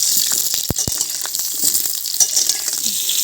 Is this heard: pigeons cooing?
no